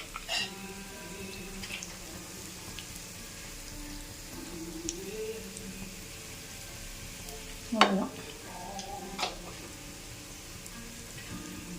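Mustard seeds, asafoetida and a ground fenugreek-mustard paste fry for a pirandai pickle, a soft steady sizzle with occasional clinks and scrapes of a spoon against the pan, quiet and close.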